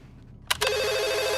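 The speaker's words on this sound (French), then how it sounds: "Le téléphone sonne, Casey décroche." A telephone rings in the horror film Scream, two sharp clicks followed by a steady, rapidly warbling electronic bell tone, clear and alone.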